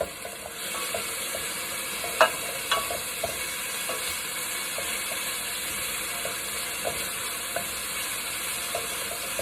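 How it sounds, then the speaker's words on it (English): Garlic sautes in a pot as the base for a curry lentil soup, a steady soft sizzle with occasional stirring scrapes and clinks, close by with no talk. "I'm gonna let that saute,"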